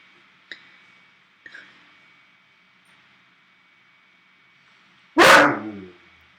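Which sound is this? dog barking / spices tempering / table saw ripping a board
dog barking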